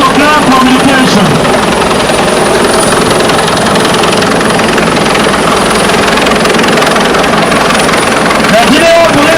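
A Nigeria Police Force Airwing helicopter at the National Police Day celebration in Abuja gives a loud, steady rotor and engine drone throughout, with voices heard over it.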